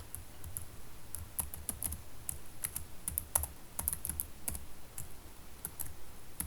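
Rapid, irregular keystrokes on a computer keyboard while a command is entered into Maple math software; close, crisp clicks alone, with no talking.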